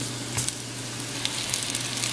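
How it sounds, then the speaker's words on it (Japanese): King oyster mushrooms sizzle in salad oil in a frying pan over medium heat, a steady close crackle with a low hum beneath and a few brief ticks, no voices. "フライパンが温まればここにエリンギ、"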